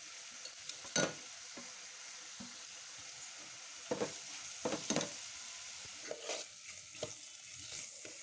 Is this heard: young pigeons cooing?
no